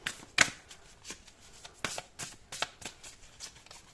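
Tarot cards are shuffled and drawn close up in a series of quick, crisp riffles and soft papery slaps, irregularly spaced over a quiet background.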